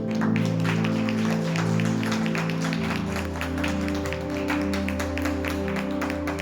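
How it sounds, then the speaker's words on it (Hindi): A church congregation at a Sunday service claps to welcome people onto the stage, a steady spatter of applause over sustained keyboard-like music that continues throughout. "सभी ताली बजाकर उनका वेलकम, उनका स्वागत करेंगे"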